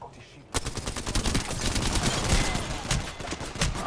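Gunfire in the video game Apex Legends, rapid automatic bursts of shots that begin abruptly and continue as a dense, loud stream of cracks with short gaps, with a voice speaking underneath.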